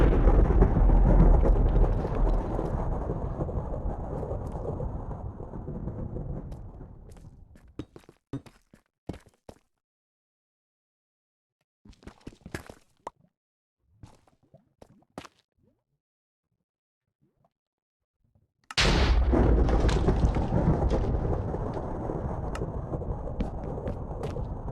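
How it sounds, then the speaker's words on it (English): Thunder in a Minecraft Bedrock Edition thunderstorm: a loud rumbling roar that fades over several seconds, a stretch of quiet with scattered thuds and clicks, then a second sudden loud crack and long rolling rumble. "I left some of the thunder in because, yeah, the thunder was actually jump scaring me too."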